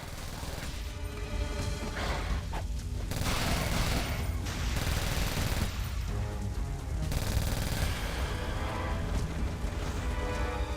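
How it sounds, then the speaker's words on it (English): Rapid sustained gunfire in the action game Onimusha 3, loud dense bursts cutting in and out over continuous game sound effects and music. "Whoa, who was he shooting at?"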